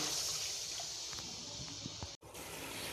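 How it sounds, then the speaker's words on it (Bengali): Water pours into a pan of cooked-down tomato paste and spice masala for tilapia fish curry. A steady, close watery rush runs for a few seconds, breaks off briefly, then resumes. "এবার এর মধ্যে জল দিয়ে দেবো"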